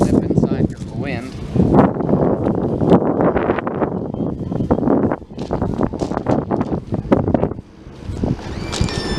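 Strong wind buffeting the microphone outdoors, gusty low roaring throughout with a person talking over it.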